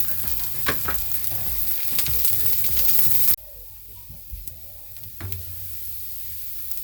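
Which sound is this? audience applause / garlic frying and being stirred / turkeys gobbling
garlic frying and being stirred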